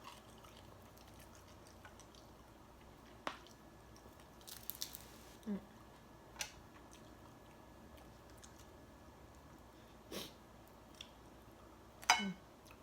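Crunchy grilled catfish tail being chewed, with a few sparse, faint crunches and clicks spread across a quiet background.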